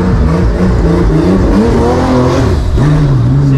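A turbocharged Porsche 911 930 Turbo engine revs hard and accelerates, its deep roar climbing steadily in pitch, loud and close throughout with no voices.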